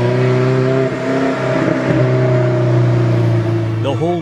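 An Alfa Romeo 4C's turbocharged four-cylinder engine revs loudly and close, holding a steady drone that climbs in pitch toward the end, with someone talking over it throughout.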